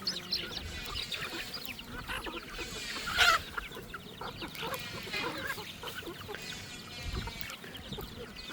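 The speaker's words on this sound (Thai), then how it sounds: "เป็ดไก่" Farmyard chickens and ducks clucking and honking around a rural Thai home, a steady mix of overlapping bird calls with one louder burst midway, no talk.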